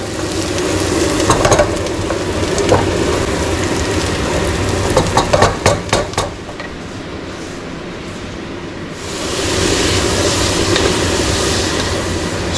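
Bulgur wheat being quickly rinsed in a home kitchen: scattered clinks and rattling grains, then a steady rush of running water near the end, with no talking.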